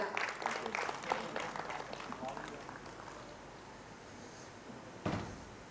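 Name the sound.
audience applauding for a speaker at a launch event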